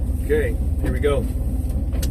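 A rebuilt Ford 351W V8 in a truck, fitted with a marine carburetor, idles on choke with a steady low rumble while someone talks over it.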